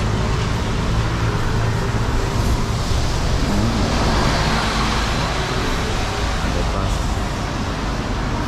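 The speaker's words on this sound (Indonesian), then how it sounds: "Nah, ini bus nomor 67, bro." Steady roar of street traffic in Geylang, Singapore, with a city bus among the passing vehicles; a continuous loud engine and road rumble runs throughout with no pauses and no talk.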